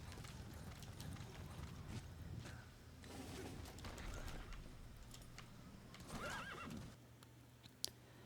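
A horse whinnies and gallops in the open world of the video game Metal Gear Solid V: The Phantom Pain on PS3, hooves clip-clopping at a steady run with a neigh rising over them, no talk.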